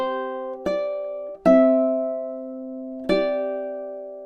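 Measure 9 of "Au clair de la lune" on ukulele with Travis-style picking: four plucked notes and chords ring clearly and sustain alone, each struck note decaying slowly into the next.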